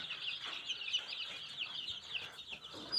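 Laying hens cluck softly and steadily in a coop, their busy chatter close and continuous with a few louder calls near the end.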